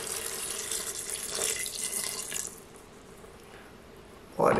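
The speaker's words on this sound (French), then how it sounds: "Allez, je rajoute de l'eau." Tap water runs steadily into a cooking pot for a pea and vegetable stew, a bright continuous rush that stops partway, leaving a quiet pause before a brief clatter at the end.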